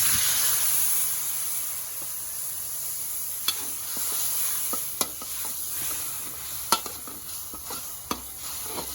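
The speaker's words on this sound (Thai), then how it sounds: "น้ำเปล่าเทลงไปเลยครับผม" Stir-fried red curry paste in a pan for pork belly with long beans, sizzling and hissing steadily as plain water is poured in, with a few sharp clinks of a utensil against the pan.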